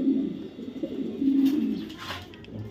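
A racer pigeon coos close by in two drawn-out throaty phrases, alone with slight rustling in the background.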